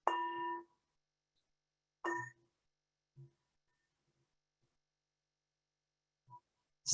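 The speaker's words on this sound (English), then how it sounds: "the bell will invite us to go inside and just reflect" A meditation bell rings out twice in a silent room, each clear metallic strike fading quickly, the second softer, with only faint small noises between.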